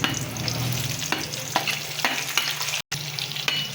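Sliced onions and cashew nuts frying in hot oil in a pan, giving a continuous close sizzle broken by soft scraping stirs and faint utensil taps, with no talking.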